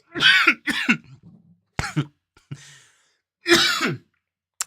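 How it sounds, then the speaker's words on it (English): A person alone on a live stream coughs in a few harsh bursts, with short pauses and a throat-clearing sound between them. "I read that, then I cough more."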